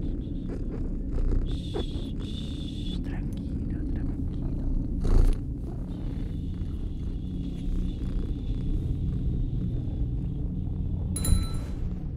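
A cat purrs in the horror video game The Baby in Yellow, a steady low rumbling purr that runs continuously at close range with faint game ambience and a few brief clicks over it.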